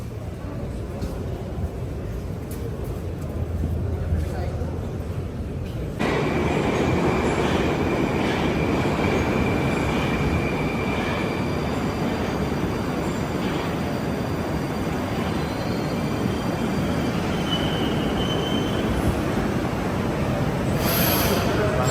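A Moscow metro train rumbles loudly and continuously, its wheels roaring along the track, growing louder partway through, with voices faintly mixed in.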